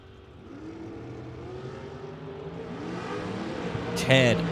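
A Ferrari drag car's engine revving and accelerating hard at a Las Vegas race event, a rising harmonic whine that climbs in pitch and grows louder, with a sharp burst near the end over crowd and commentary.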